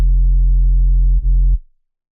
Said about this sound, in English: it is just literally a sine wave that is being run through to the soft clip, and I've driven it all the way up